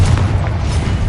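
A Confringo spell detonates in Hogwarts Legacy, a loud, heavy boom with a deep low rumble that fills the whole second, close and dense.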